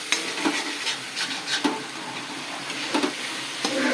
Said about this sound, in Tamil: இப்போ இதை நல்லா ஒன்றோட ஒன்று சேர்றாப்புல நல்லா கலரணும்